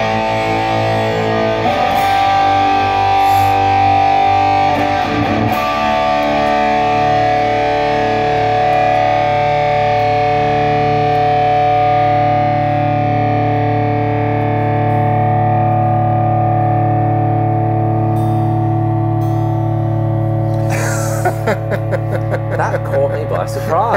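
Electric guitar played through a Marshall JVM 205C three-channel combo amp, giving a loud, distorted, reverb-washed tone of sustained chords that ring steadily for a long stretch, with a few sharper picked notes near the end.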